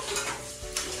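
Dishes being washed by hand in a home kitchen, with a steady run of water and soft clinks and scrapes of pots and utensils, plus a brighter splash or clatter near the end; no talking.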